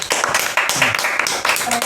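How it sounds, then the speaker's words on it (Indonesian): Brief burst of clapping from a small audience for a podcast guest, close and fairly loud, with voices talking over it. "Tepuk tangan buat Kang Dul."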